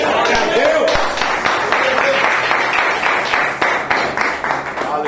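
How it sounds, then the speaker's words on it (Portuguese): A church congregation at a Sunday service applauds in praise, a steady wash of clapping with voices mixed in, continuing at even loudness throughout. "Pode sentar, aplaudir o Senhor Jesus."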